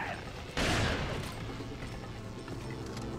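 A single loud shotgun blast in Resident Evil 4 cracks out close and sharp, then decays into lingering game ambience with faint mechanical clatter.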